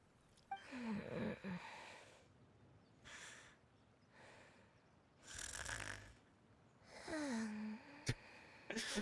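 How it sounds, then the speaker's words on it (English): Soft, close snoring into a microphone, several slow rasping breaths with pauses between them, quiet and alone. "snoring on the microphone"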